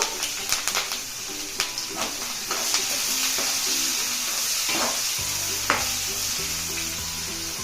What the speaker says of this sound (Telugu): అదే ఆయిల్లో పెద్ద ఉల్లిపాయ ముక్కలు ఈ సైజ్ పాయ తీసుకున్నానండి సన్న ముక్కలు కట్ చేసుకున్నాను కొంచెం కరివేపాకు